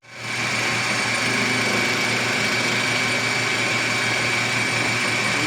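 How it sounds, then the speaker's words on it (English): A metal lathe facing off an engine part for a forged Subaru EJ257 build runs as a steady, loud, high-pitched whine, starting up at once and holding constant with no voices. "let's clean it up on the lathe"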